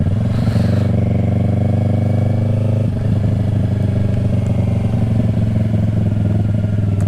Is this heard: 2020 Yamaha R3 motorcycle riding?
yes